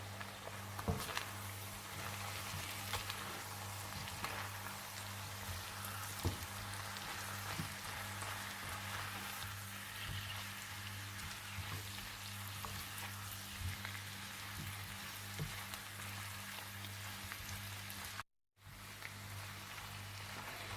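Potatoes with ginger frying in a pan, a steady broadband sizzle running through most of the span with scattered crackles and a brief dropout near the end, no talking.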